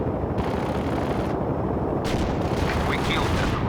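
An artillery barrage in World in Conflict, a dense, continuous rumble of shell impacts and booms filling the whole stretch, loud and close, with faint radio chatter mixed in.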